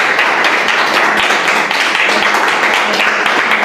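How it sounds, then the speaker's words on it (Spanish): A church congregation claps together in sustained, dense applause, many hands patting at once in a steady, loud wash with no voices standing out. "Vamos a darle un aplauso a Dios."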